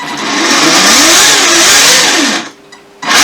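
A Himoto RC car's electric motor whines loudly under throttle, the pitch rising and wavering, then drops nearly silent for a half second before surging again at the end.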